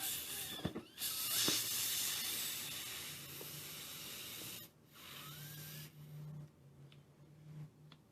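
Air escapes slowly from a balloon filled with water beads, a long breathy hiss that swells and fades with brief squeaky whistles and short pauses.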